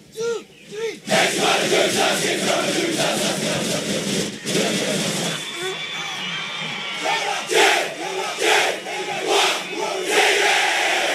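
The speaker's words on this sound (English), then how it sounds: "sounds and rounds of the applause from the faithful that have come through from 44 St. Patrick's Road" School rugby supporters at a King Edward VII versus Jeppe match chant in rhythmic, swelling bursts from a large crowd, with whoops and cheers rising between the chants.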